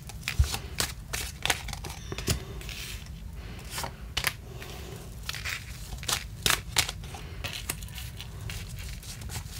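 Repeated riffling and snapping of a deck of cards being shuffled close by, irregular bursts of crisp flicks over a low background rumble.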